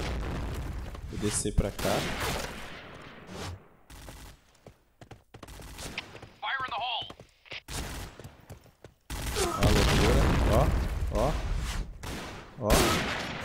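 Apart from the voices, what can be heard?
gunfire in the video game Point Blank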